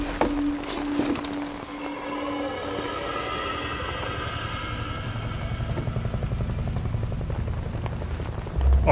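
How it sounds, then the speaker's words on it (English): Rain falls in the video game Metal Gear Solid Delta: Snake Eater, a dense, steady patter and hiss mixed with low rumbling game ambience, fairly soft and continuous throughout. "God, even the detail of the rain."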